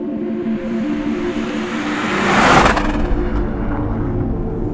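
Toyota GR Yaris Rally car out on the open road, its engine droning steadily before swelling into a loud, close whooshing pass around the middle, then settling back into a sustained hum with no voices.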